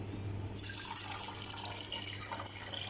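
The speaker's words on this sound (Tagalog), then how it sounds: "Lagyan na natin ng tubig." Water pours steadily into a pot of rice, a soft continuous splashing rush that starts abruptly and keeps running.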